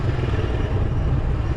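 A Vento Tornado 250 motorcycle, a 2023 city bike, droning steadily while filtering through car traffic, a continuous low engine rumble up close with wind noise and no speech.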